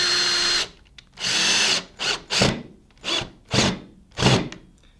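Power drill driving 1-inch wood screws into 0.75-inch wood for rustic home decor: one long whirring run, then several short bursts of the motor biting and stopping as each screw seats, close and loud.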